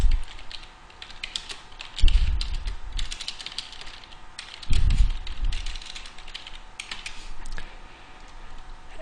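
Steady typing on a computer keyboard, a fairly close run of quick key clicks with two brief heavier thumps partway through; no one speaks.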